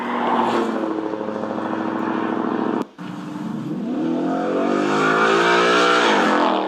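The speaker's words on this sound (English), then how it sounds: "if this is truly an H-pipe with just no muffler, it does sound pretty good" A Ford Mustang V8 exhaust with an H-pipe and no muffler revs up loud and throaty, dips briefly, then climbs again to a sustained roar, close and without talk.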